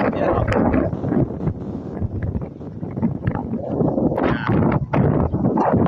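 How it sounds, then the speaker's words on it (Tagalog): Strong wind buffets the microphone continuously beside the Aput River, a loud, rough rumbling gust noise with no clear pauses. "Lakas ng hangin."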